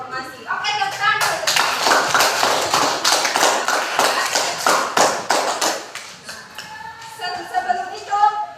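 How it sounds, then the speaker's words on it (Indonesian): Students in a classroom clap their hands together, a dense burst of quick claps lasting about five seconds, with softer voices before and after. "Oke, tepuk tangan."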